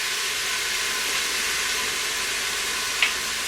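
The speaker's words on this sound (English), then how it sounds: "I'm going to sear my meat" Meat and onions searing in an Instant Pot, giving a steady, loud, broadband sizzle and hiss that runs unbroken, with one small clink near the end.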